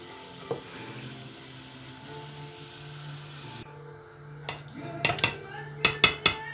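A spoon works through a pot of semolina dessert mixture with sugar, butter, starch and vanilla, a low bubbling under it, then a run of sharp metallic scrapes and clinks against the pot growing louder near the end.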